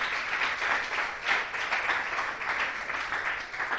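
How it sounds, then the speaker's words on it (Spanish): A church congregation applauding, a full, continuous roll of many hands clapping that swells slightly and stays steady, with no speech heard over it. "¿Cuánto das un aplauso al Señor en esta mañana por eso?"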